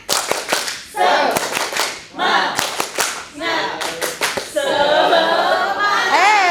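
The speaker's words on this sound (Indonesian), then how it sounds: "Yuk, tepuk semangat." A group performs the 'tepuk semangat' spirit clap, rhythmic bursts of clapping in set patterns with pauses between them. Voices chant and call along throughout, and the clapping swells louder toward the end.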